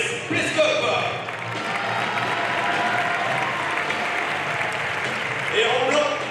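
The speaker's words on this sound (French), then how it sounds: "je vous demande d'applaudir très très fort les joueurs et les joueuses de l'ES Plescope" A crowd claps loudly and steadily at a wheelchair handball match in Brittany, sustained dense applause greeting the ES Plescop players, with cheering swelling near the start and end.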